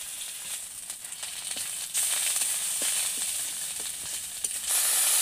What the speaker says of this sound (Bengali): একে একে রসুন কুচি, পেঁয়াজ কুচি ও আদা বাটা দিয়ে 2 থেকে 3 মিনিট নাড়াচাড়া করে নেব